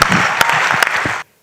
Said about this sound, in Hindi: मुझे बैठ के पढ़ने के लिए एक ताली बजा दीजिए एक बार